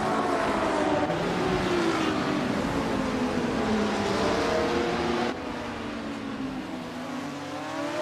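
Race cars, including a 1991 Vauxhall Cavalier, roar through a racing video game with loud sustained engine drone and rising and falling gear pitches. Several overlapping engines are close, and the sound level drops slightly partway through.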